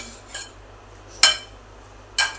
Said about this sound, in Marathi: सगळं असं मिक्स करून घ्यायचं